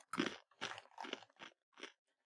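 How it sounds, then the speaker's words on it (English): Rice crackers are eaten close up, with five loud crunchy bites and chews in an uneven rhythm separated by short silences. "I will eat some rice crackers"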